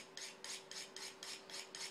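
Knife blade being sharpened with enough pressure to remove metal, seven evenly spaced rasping strokes with a steady back-and-forth rhythm, close and fairly quiet, with no talk.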